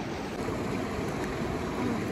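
Cold mountain river water in Langtang, Nepal rushes in a dense, steady roar close by, with no voices.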